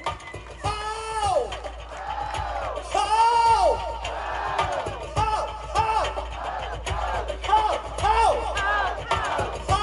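A crowd at a live performance screams, whoops and yells in repeated rising bursts over nearly ten seconds, loud and close, with chanting voices mixed through the noise.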